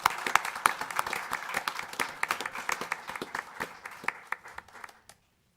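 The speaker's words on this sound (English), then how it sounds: "how about we give them all a big round of applause?" A council meeting audience applauds the Springville parade grand marshals: a moderate round of distinct, irregular hand claps that thins out and stops near the end, with no talking.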